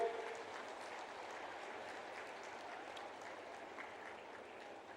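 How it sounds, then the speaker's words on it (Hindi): Steady crowd applause fills a large public hall at the inauguration of Chhattisgarh's new legislative assembly building attended by the Prime Minister, a dense continuous clapping that holds at an even level throughout. "दोनों हाथ उठा के ताली बजा के।"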